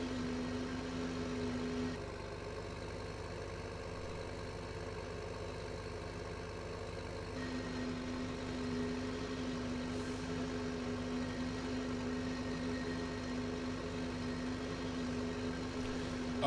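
A tractor engine idles steadily in the Farming Simulator 15 video game, a faint, constant low drone with a steady hum that briefly changes tone partway through.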